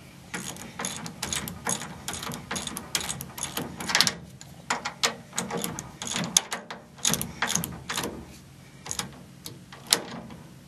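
A ratchet wrench tightens a 17 mm bolt with rapid clicking pawl bursts, repeated strokes in an irregular rhythm, close and clear, with no talk.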